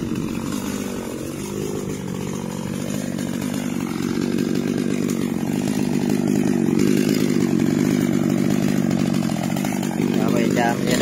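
A chainsaw cuts a large eucalyptus log, running steadily and loudly up close for the whole stretch, its engine droning as it cuts, with a voice talking faintly underneath.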